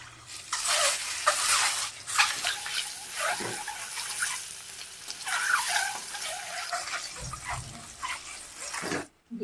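An egg fries in hot oil with turmeric in a pan, giving a loud, continuous, crackling sizzle close by that cuts off abruptly near the end.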